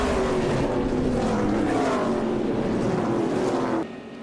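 NASCAR race car getting sideways and spinning out: a loud, sustained engine roar with shifting pitch and tire noise runs for nearly four seconds, then drops away abruptly toward the end.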